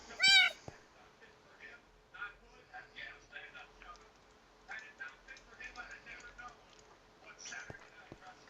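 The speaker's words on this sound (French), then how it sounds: "C'est un autre chat bâtard." A cat meows in a bright, rising wail at the start, followed by quieter scattered sounds and speech through the rest.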